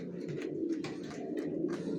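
Racing pigeons of the Johnson line coo softly in a loft. The low, throaty calls roll over one another against a constant murmur of background noise, faint and without speech.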